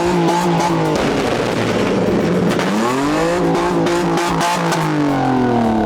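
A modified car at an auto show in Islamabad revs its exhaust hard and steadily, the engine note rising and falling through several loud, close pulls with a continuous roar throughout and no talk.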